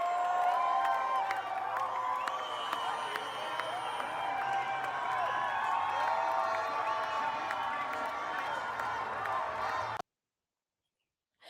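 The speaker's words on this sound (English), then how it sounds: "They're cheering for the opposite team, New Zealand." A large stadium crowd at a FIFA World Cup match against New Zealand cheers and whoops in a steady, dense roar for about ten seconds, then cuts off into silence.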